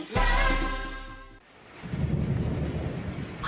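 A thunderclap booms loudly with a long rolling tail and breaks off abruptly. Steady rain then follows, with no voices.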